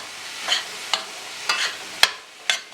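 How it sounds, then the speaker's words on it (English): A utensil scrapes and knocks around a pot of curry pigeon peas in five separate strokes, deglazing the bottom, with a soft sizzle underneath. "Stir it well, because you really want to get all that curry goodness from the bottom of the pot there"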